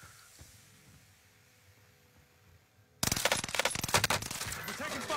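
Loud bursts of rapid gunfire in a Fortnite match erupt suddenly after a quiet stretch, dense and continuous to the end, with voices speaking over the shooting.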